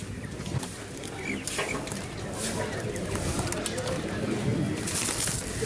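Pigeons cooing and clucking in a noisy, crowded shop, faint and continuous under a hubbub of voices and general commotion.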